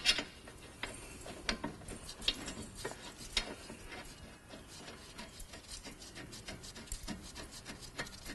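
A hand ratchet tightens the front brake caliper bolts on a Smart Fortwo during a disc and pad change, sounding as rapid close clicking strokes in irregular bursts with small metallic knocks, no talking.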